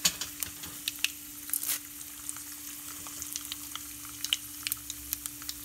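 Mustard seeds with split chana and urad dal sizzle and crackle in hot oil, a steady close fry with scattered sharp pops and spits, no voices.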